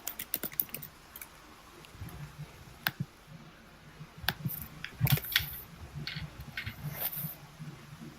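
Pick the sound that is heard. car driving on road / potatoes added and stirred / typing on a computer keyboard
typing on a computer keyboard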